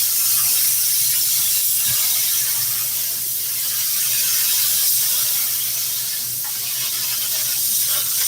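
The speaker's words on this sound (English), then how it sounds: "I'm not spraying it that heavy. I'm just spraying just to hold it kind of in place." A continuous loud hiss of an aerosol spray can spraying close by during a 1957 four-door car seat repair, steady for several seconds with slight swells in intensity.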